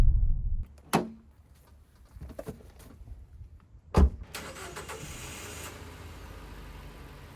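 A car pulls in and parks on a city street, its engine rumbling low, with a sharp door-like thud early on and another loud clunk midway, then steady traffic and street noise carrying on.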